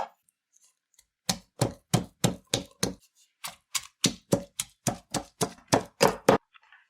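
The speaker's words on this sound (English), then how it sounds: "So that was pepper and garlic that we pounded." Pepper and garlic pounded in a mortar for a curry paste, sharp hard thuds in a quick steady run of about nineteen blows after a short pause, close and fairly quiet, no talking.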